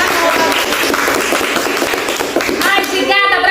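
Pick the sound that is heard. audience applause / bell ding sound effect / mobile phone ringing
audience applause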